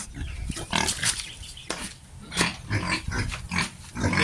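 Native boar pigs grunt and squeal repeatedly while being fed, close and loud, with rustling and shuffling between the snorts.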